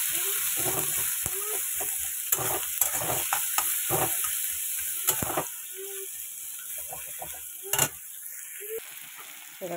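Egg and pointed gourd curry fries in a pan with salt and turmeric, giving a steady sizzle broken by repeated scraping stirs of the spatula. The cooking sound is close and continuous, with no talking.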